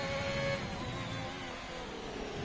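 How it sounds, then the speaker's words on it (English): Turbo whistle from a race car in a sim racing game, Russia round, a thin high whine with steady engine drone beneath, held close and continuous with no talk. "Probably just the turbo whistle."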